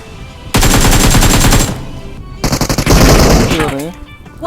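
Automatic gunfire from the PUBG Mobile battle royale game, a loud sustained burst followed by a second series of rapid shots, with the players' voices faintly under and between the bursts.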